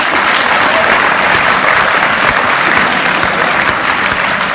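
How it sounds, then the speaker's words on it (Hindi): Continuous, dense applause from a seated audience in a hotel function hall in Faridabad fills the room steadily and loudly throughout, with no pauses. "आप लोग ताली बजाइए इन लोगों के लिए जो सीखने को तैयार है और सबसे आगे बैठे हैं"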